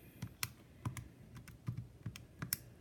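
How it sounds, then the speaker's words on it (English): Calculator keys are pressed in an irregular run of about ten sharp, close clicks over a few seconds while a problem is entered on a graphing calculator, with no talking. "I'm going to type in that problem."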